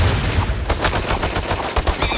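Rapid AK rifle fire in the video game Apewar: a dense run of sharp shots in quick succession, loud and close, with no talking.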